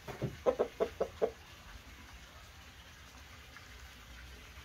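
A Brahma Light rooster gives a quick run of five or six clucks in a row, then falls quiet against a soft outdoor background hiss.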